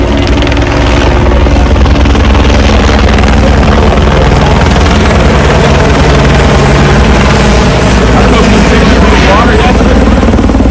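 A police law enforcement helicopter flies overhead, its rotor thudding in a loud, steady, close roar that fills the whole stretch without a break.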